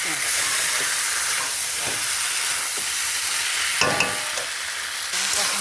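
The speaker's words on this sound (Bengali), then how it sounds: "মশলাটা ভাজা হলে হয়ে যাবে।" Masala spices and tomato frying in a pan make a loud, continuous hissing sizzle that stays even throughout, with a short clattering stir near the middle and no talking.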